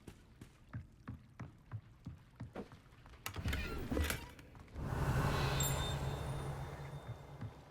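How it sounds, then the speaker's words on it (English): A small stone is thrown into water in the underground harbor of Hogwarts Legacy, giving a clear splash followed by a sustained watery wash over soft rhythmic game ambience, with no talking. "En dan kan ik een steentje in het water gooien."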